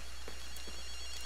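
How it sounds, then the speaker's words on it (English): In the video game Ghostwire: Tokyo, a phone rings with thin electronic tones over a steady low hum, a brief continuous ring. "I'll just answer the phone"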